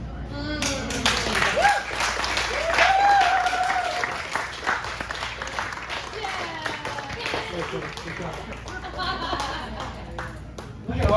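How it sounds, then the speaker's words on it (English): Sustained applause from an audience at a book festival, moderately loud and steady, with scattered voices and whoops mixed in as it continues and tapers slightly toward the end. "Let's get a little round of applause for Martin and Wiley."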